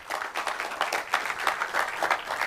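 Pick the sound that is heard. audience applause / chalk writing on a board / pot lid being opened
audience applause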